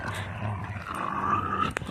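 Two dogs play-fighting over sticks, low rumbling growls that carry on steadily and close, with a short sharp knock near the end.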